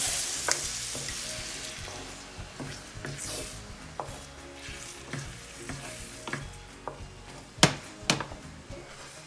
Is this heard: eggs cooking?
yes